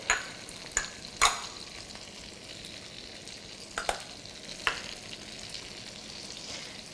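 Peppers and celery sizzle in a hot pan while a utensil stirs them, giving several sharp scraping clacks spaced irregularly over a constant close frying hiss.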